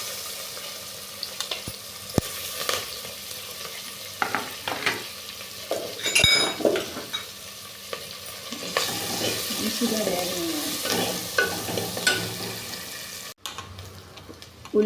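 Onion and green chilli pieces frying in oil with curry leaves for a ridge gourd dal curry, a steady sizzle broken by spatula scrapes and clinks against the pan, close up, with a louder burst of frying midway.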